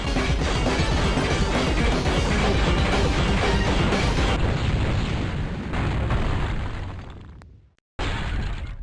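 Loud, continuous crashing explosions and shattering bursts from a 2007 Japanese Nintendo DS game's waterfall-descent boss battle, sustained for several seconds before cutting out abruptly, then resuming briefly.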